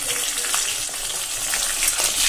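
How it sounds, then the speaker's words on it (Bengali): A fish head fries in hot oil in a pan in a home kitchen, giving a steady bright sizzle with crackling bursts and occasional stirring scrapes. "মাথাটা ভালো করে ভাজা করতে হবে। তো ভেজে নিচ্ছি"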